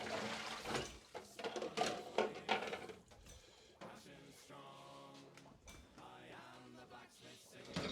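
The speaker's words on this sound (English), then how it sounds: "Now let me get some water going because this is going to take a bit" Tap water runs into a pot in a kitchen sink, heating up for kegging mead, heard as a splashy rushing stream that fades to quieter trickling and clinks toward the end.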